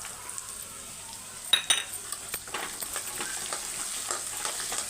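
Urad dal, chana dal and chopped onion frying in hot oil for poha upma, a steady low sizzle broken by several sharp clinks and stirring scrapes of a utensil against the pan.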